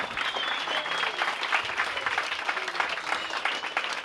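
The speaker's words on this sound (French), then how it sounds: "Donc on applaudit bien fort l'école dimanche de Poinda" Sustained audience applause for a Sunday school choir at a choir competition, a dense, steady wash of many hands clapping throughout, loud and continuous with no voices standing out.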